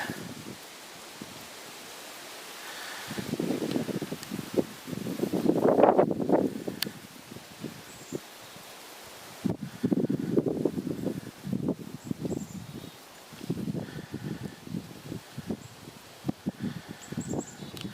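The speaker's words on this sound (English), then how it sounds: "But that wind is really kicking in." Wind gusts through a forest near a pond, rising in long roaring surges that fade and return, with rustling and rumbling buffeting close to the microphone.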